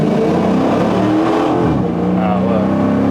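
Dodge Challenger SRT8 with its 6-litre naturally aspirated V8 pulling hard under a burst of throttle, a loud continuous engine roar rising in pitch from inside the car, with talk over it.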